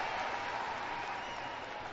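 Crowd applause rises for a Tim Walz speech, a steady dense wash of clapping from a large audience, moderately distant and sustained without a break.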